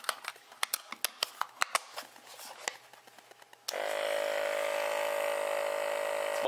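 A Clam B 11 bait bucket aerator for ice fishing switches on running on two batteries: a few seconds of clicky handling and rattles give way to a steady, close motor hum with a whirring buzz.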